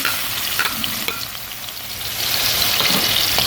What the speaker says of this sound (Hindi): और इसको थोड़ा सा भूनेंगे, 2 से 3 मिनट इसको भूनेंगे।